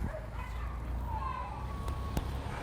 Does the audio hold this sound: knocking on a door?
no